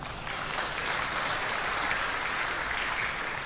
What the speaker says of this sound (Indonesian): Tepuk tangannya aja nggak apa-apa.